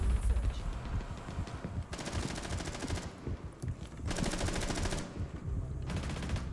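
Bursts of rapid automatic gunfire in a video game, two long dense volleys with a shorter one at the end, loud and close over a steady rumbling game background.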